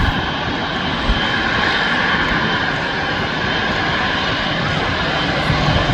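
A Qatar Airways Boeing 777 jet at Manchester Airport gives off a loud, continuous engine roar with a steady broadband rush, heard from near the runway.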